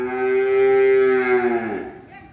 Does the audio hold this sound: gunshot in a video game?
no